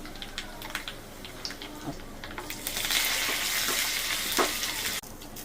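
Mustard seeds, cumin, coriander, dried red chillies and asafoetida crackle and sizzle in hot oil for tempering, a dense frying hiss that swells louder midway with scattered pops, then cuts off abruptly near the end.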